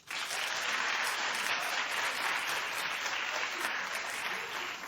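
A studio audience at a daytime talk show applauds steadily, a dense, even wash of clapping that holds at the same level with no speech over it.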